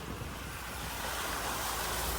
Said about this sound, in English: Look how fast this water's moving